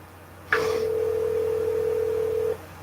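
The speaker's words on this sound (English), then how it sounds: "That's just the phone ringing." A single steady telephone tone sounds for about two seconds, clear and close, starting abruptly and cutting off cleanly, with a faint low hum underneath.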